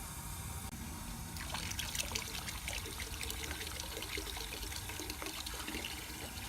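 Water pours steadily into a bucket, about 4 gallons' worth, a continuous splashing trickle close to the microphone that runs unbroken from start to finish with no talk.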